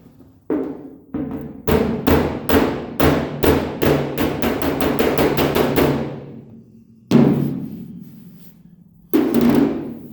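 Rapid, ringing hammer blows on sheet metal backed by a dolly while fixing a dent, a fast run of strikes followed by two separate heavier hits, loud and close with metallic decay.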